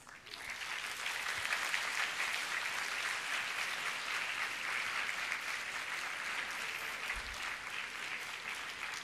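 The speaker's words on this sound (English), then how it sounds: "please give them a round of applause." A large audience at a graduation ceremony claps for the graduates' parents, a dense and steady wash of applause that lasts the whole stretch with no pauses.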